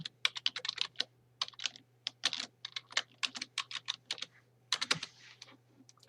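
Fingers tap out a username and password on a computer keyboard in quick irregular bursts of crisp clicks and pauses, close and fairly quiet over a faint low electrical hum.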